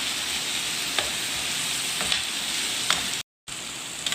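Liver masala frying on a tawa, a steady loud sizzle with a few sharp scrapes of stirring spaced about a second apart and one brief dropout near the end.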